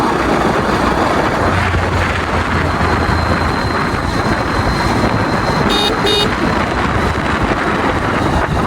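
A motorbike ride along a winding road near a bridge under construction in Nepal, with continuous loud engine drone and heavy wind buffeting throughout, no talking.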